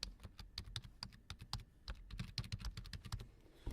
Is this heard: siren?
no